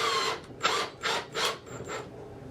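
A power drill drives screws into wood in a run of short, buzzing bursts, five or so close pulses of whirring with brief gaps between them, near and fairly loud with no talk.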